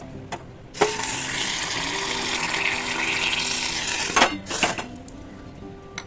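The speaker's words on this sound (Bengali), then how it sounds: "এখন এটাকে গুলছি হালকা হালকা করে গরম জল দিয়ে" Hot water gushes steadily from a tap into a bowl of ground puffed rice flour for mixing, a broad continuous splash lasting several seconds before cutting off, with a few brief knocks around it.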